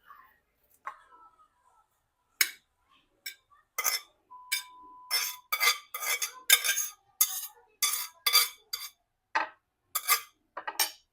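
Metal utensils scrape and clink against a dish while mixing canton noodles, a quick irregular series of sharp clatters that grows busier after a few quiet seconds, close and alone.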